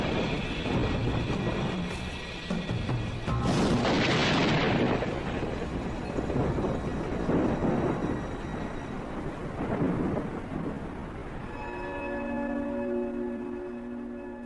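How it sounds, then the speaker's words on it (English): Thunder from a huge electrical storm at night in dry-season African savanna, deep rolling rumbles and a sharp loud crack that build and fade over a long stretch, with steady background noise. "By night, a huge electrical storm threatens."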